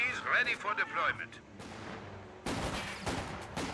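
Gunfire and artillery from the World War II strategy game Company of Heroes 2: sharp bursts and heavy booming shots, densest in the second half, with a voice talking over the opening.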